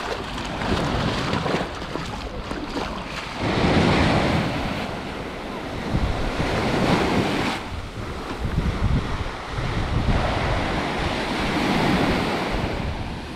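Sea waves break and surge onto Martil beach near Tetouan on a quiet morning, a loud continuous roar that swells and recedes in slow cycles, with gusts of wind buffeting the microphone and no talking.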